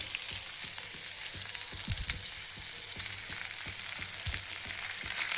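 Onions sauté in a pan over low heat, giving a soft continuous sizzle with repeated light scraping taps from stirring. The sound is moderately quiet and there is no talking.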